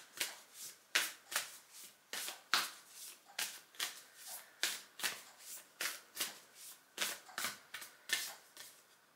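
Tarot cards shuffled and pulled in a steady rhythm of sharp papery riffles and slaps, about two per second, close and clear with no talking over them.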